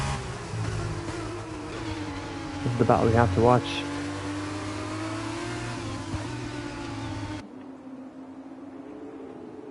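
A race car in a racing video game accelerates, its engine droning steadily and rising briefly in a loud rev under continuous commentary.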